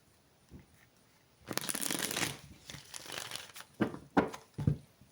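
A deck of tarot cards being shuffled close by, a crisp riffling burst followed by several shorter papery flicks and taps.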